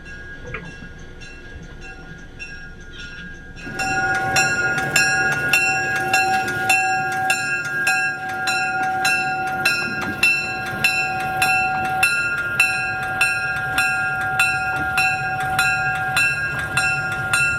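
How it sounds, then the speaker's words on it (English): A locomotive running around its train at Decker Bay on the Heber Valley railroad, a steady engine rumble rising after a quiet start, with regular rhythmic clanking pulses and a sustained whistle-like tone, fairly close and loud. "we were permitted to leave the car to watch the locomotive run around the train for the return trip"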